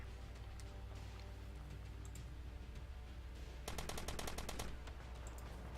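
Automatic M4 rifle fire in the online shooter Warfare 1917-1944, heard as a rapid burst of sharp repeated shots lasting about a second, standing out over a steady background of game ambience and faint clicks.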